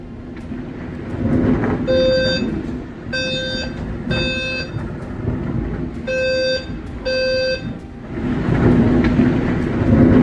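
A violent storm with heavy rain and rumbling wind roars close by, interrupted by several short repeated electronic beeping tones like an alarm.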